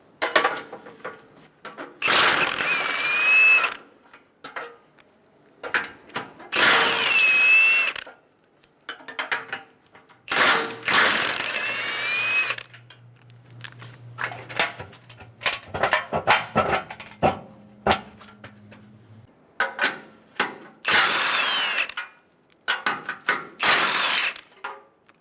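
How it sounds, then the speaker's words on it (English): A 14mm socket ratchet loosening bumper impact bar bolts on a 2007-2011 Toyota Camry, several close bursts of rapid clicking separated by pauses, with a faint low hum partway through and no speech. "Using a 14mm socket, remove the 3 bolts on each side of the bumper impact bar."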